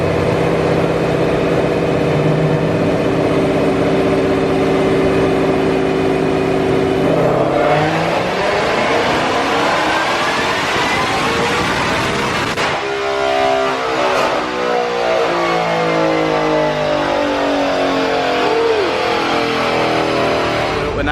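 A 1000 hp 2020 Shelby GT500 engine on a hot day, idling and then revving hard in a loud sweeping climb toward 8400 RPM, followed by a second rising run and the sound of the revs falling away.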